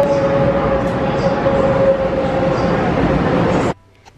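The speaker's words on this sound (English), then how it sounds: "a super local train" A super local train near Jiufen, Taiwan, rumbles steadily and loudly up close with a faint tonal whine, then cuts off abruptly into near quiet.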